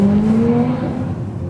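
A Mitsubishi Evo X drives past with a loud, near exhaust drone whose steady low tone eases slightly as it goes by, with no talking.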